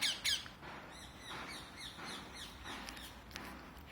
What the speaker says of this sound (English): The other parrot is eating and the other parrot is saying that give me also